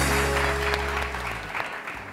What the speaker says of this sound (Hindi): फरीदा आपा के लिए बहुत सारी तालियां